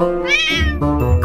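A domestic mixed-breed street cat (puspin) gives one drawn-out meow that rises and then falls, close and clear, with no talking over it.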